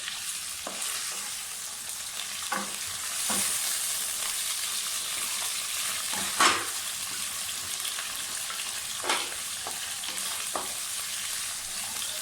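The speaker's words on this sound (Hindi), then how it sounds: "मटन को थोड़ा सा भूनें।" Mutton pieces sizzle in a pan with onions while being stirred, a steady frying hiss broken by several sharp spatula scrapes and clinks, close and without talking.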